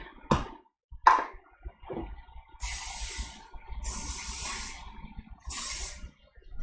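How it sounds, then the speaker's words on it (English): Cooking spray hisses into a casserole dish in three separate sprays, each a loud, sustained aerosol burst about a second long, preceded by a few short clicks and taps from handling the can and dish. "I'm just going to spray it down with cooking spray real quick."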